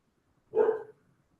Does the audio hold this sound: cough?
no